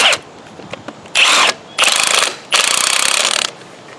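A ratchet tightens a nut on a post-tension bar used in a concrete repair, giving three close, loud bursts of rapid clicking, each lasting under a second, after a few lighter taps.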